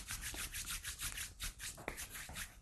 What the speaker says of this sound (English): We're going to rub our hands together 8 times.